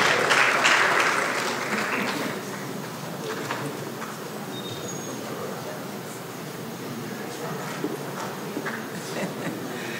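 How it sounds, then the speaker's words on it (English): Audience at a graduate students' association research fund event applauds the Vice Chancellor, clapping strongest in the first two seconds, then thinning to scattered claps over a murmuring crowd. "with a resounding round of applause"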